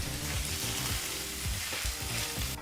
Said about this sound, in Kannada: ಮೆಂತ್ಯ ಸೊಪ್ಪನ್ನು ಸಹ ಮೂರರಿಂದ ನಾಲ್ಕು ನಿಮಿಷಗಳ ಕಾಲ ಮೀಡಿಯಂ ಫ್ಲೇಮ್ನಲ್ಲೇ ಚೆನ್ನಾಗಿ ಫ್ರೈ ಮಾಡ್ಕೋಬೇಕು